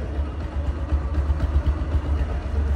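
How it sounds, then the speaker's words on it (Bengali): An original Bajaj Discover 135 cc motorcycle idling, its exhaust note from the silencer a steady low pulsing rumble, close and fairly loud, with no voices over it. "ইঞ্জিনে সাউন্ড নাই কিন্তু, যতটুকু সাউন্ড পাচ্ছেন এই সাইলেন্সারের মুখ থেকে।"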